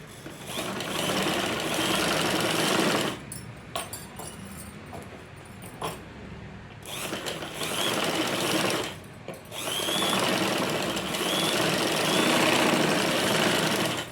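A sewing machine stitching the lining of a blouse, running in loud continuous whirring bursts with short pauses between seams, close by and without talk.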